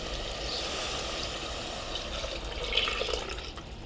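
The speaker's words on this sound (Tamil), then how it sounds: "இப்போ தண்ணி ஊற்றும் போது 1க்கு 2 ரேஷியோ மட்டும் கரெக்டாக ஊற்றணும்" Water poured into seeraga samba rice in a bowl for chicken biryani, a steady close trickling, splashing flow that swells slightly near the end.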